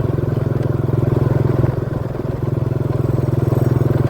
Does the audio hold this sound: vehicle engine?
yes